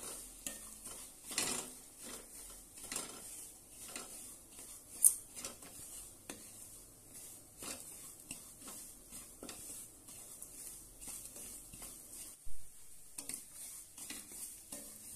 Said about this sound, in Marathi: तो घालूया आणि छानपैकी खरपूस असा भाजून घेऊया